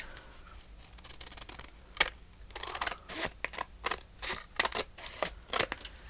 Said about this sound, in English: Now I'm going to cut this part off the bottom.